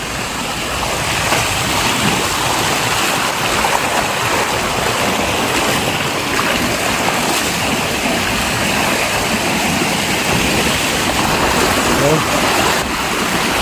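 Steady rushing water of a stream flowing close by, a continuous broadband wash with no pauses.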